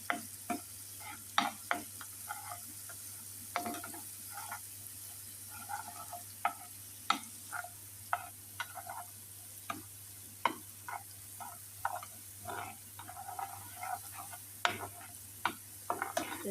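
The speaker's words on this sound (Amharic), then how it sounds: "ከዛ ነጭ ሽንኩርቴን አሁን እጠብስና በዘይት ጨምረዋለሁ።" Garlic fries in oil, a soft continuous sizzle broken by frequent sharp clicks and taps of a utensil against the pan, fairly quiet and without voices.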